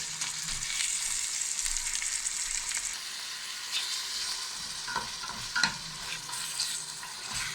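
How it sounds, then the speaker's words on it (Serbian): Minced meat and onion fry in a pan as filling for stuffed peppers, giving a close, steady sizzle with occasional stirring scrapes and spatters, and no voices over it. "Malo nek se proprži meso sa lukom, pa ćemo onda naliti malo vode da se dinsta."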